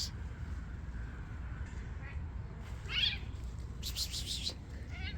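A calico stray cat at night gives a few short meows asking for food, fairly close, over a steady low background rumble.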